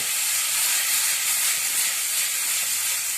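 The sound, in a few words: vegetables sautéing in a wok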